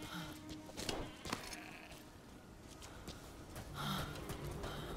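Sheep bleating in the video game Metal Gear Survive, a few short calls standing out over a busy game soundscape with someone talking in French.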